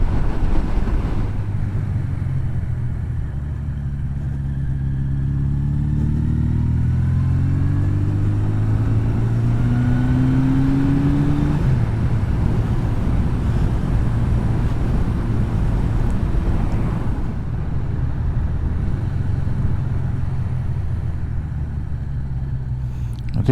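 A motorcycle engine drones on a test ride with the idle set slightly high, rising and falling in pitch as it revs, heavily mixed with rushing wind noise over the microphone throughout.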